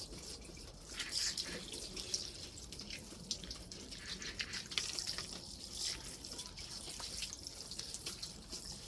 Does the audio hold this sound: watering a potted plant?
yes